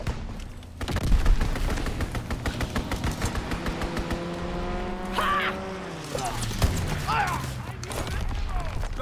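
A World War II strafing run in the Call of Duty: WWII video game: rapid rattling bursts of aircraft machine-gun fire, then a rising and falling engine drone as the plane sweeps past, with a voice speaking briefly over it.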